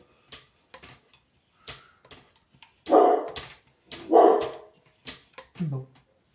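Indoors, a dog lets out two loud barks with a few softer yips and whimpers around them, while someone talks quietly between the sounds.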